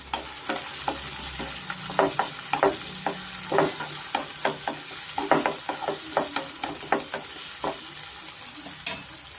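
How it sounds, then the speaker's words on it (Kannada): Capsicum frying in oil for vangibath: a constant bright sizzle close by, broken by repeated scraping and stirring clicks of a utensil in the pan, with no talk. "ಇವಾಗಲೇ ನಾನು ಕ್ಯಾಪ್ಸಿಕಮ್ ಸೇರಿಸ್ಕೊತಾ ಇದ್ದೀನಿ"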